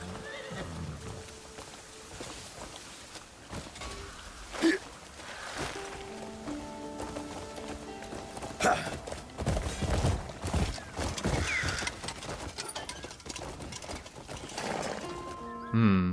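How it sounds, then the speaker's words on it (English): A horse in the game Crimson Desert whinnies and neighs several times over clip-clopping hooves during a horse race, with game music and effects around it and brief stretches of voice. "Horse racing."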